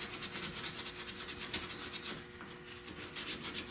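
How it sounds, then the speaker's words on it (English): Black paint is sanded off the door jambs of a car by hand during bodywork prep, giving a steady, close rhythmic rubbing and scratching of abrasive on metal, quiet with no talking. "I want to get in here and sand all the black off"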